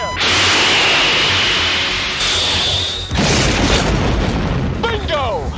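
A fighter jet firing a missile during a dogfight with Russian MiGs in Top Gun: a loud roaring launch whoosh, a sharp cut, then another burst of jet roar and blast noise, with brief radio-style voices near the end.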